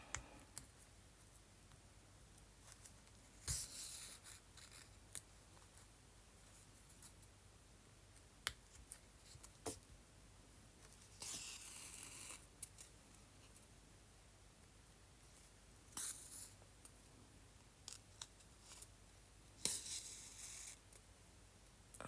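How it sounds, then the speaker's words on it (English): Needle and thread stitching through paper for a small handmade journal, heard as scattered faint clicks, ticks and soft rustles spread across a quiet background, with a few longer papery rustling bursts between them. "And stitching into paper goes perfectly nice too."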